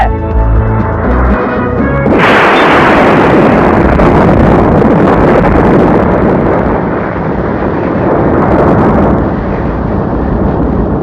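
Planted explosives go off after a short tonal lead-in, releasing a loud, sustained roaring blast with heavy rumble that fills the rest of the clip.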